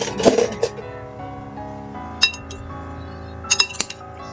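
Cheesy tofu sisig mixture stirred with mayonnaise in a bowl, giving a few sharp clinks of a spoon against the dish at the start and again near the end, with quieter scraping between.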